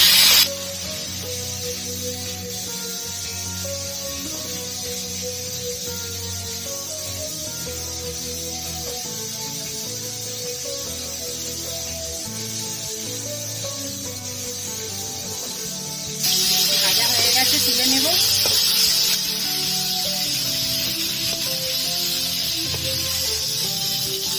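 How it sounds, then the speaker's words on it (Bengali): Salt and turmeric coated shrimp lightly frying in mustard oil, a steady broad hiss of sizzling that continues throughout and grows louder near the end, with a quiet background of music. "নুন হলুদ মাখানো চিংড়ি মাছটা হালকা ভেজে নেব"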